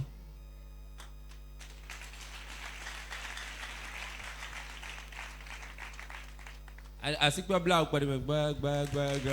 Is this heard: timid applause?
yes